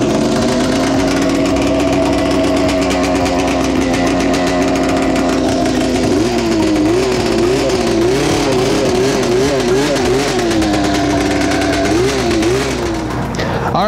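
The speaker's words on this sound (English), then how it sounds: "I'm gonna pull it to start and ride her up to the garage" A Honda TRX440 ATV fitted with a snowmobile engine starts and is ridden off, its loud, buzzing two-stroke-like drone holding steady before rising and falling in revs as it moves up toward a garage.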